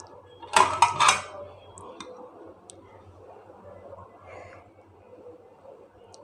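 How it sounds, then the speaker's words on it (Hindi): A spatula spreads chana dal barfi in a dish and cuts it, giving a short cluster of clinking, scraping taps against the dish, then a few faint scattered ticks over a quiet background. "ऐसे स्पैचुले की मदद से फैला लें थोड़ा सा डिश के अंदर। फिर इसको टिक्की की शक्ल में काट लें।"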